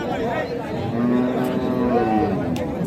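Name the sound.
cow mooing at a cattle market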